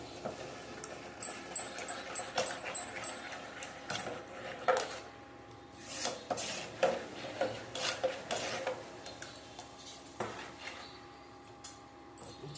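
A spoon scrapes and taps irregularly around a bowl as spices are stirred into maize dhokla batter, with clinks and knocks of varying loudness close by and no talking.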